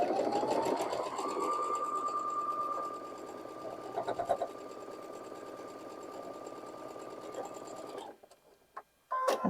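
A sewing machine runs steadily, stitching a seam on a quilt block, its fast even mechanical whir continuing for several seconds before stopping, followed by a few light clicks.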